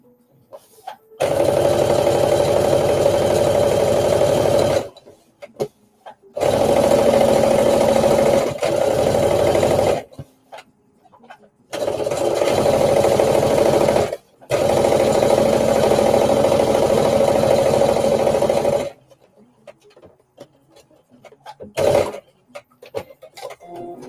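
A serger sews a flat belt seam along the side seam of jumpsuit pants, running in four loud, steady motor bursts of a few seconds each with short pauses between them.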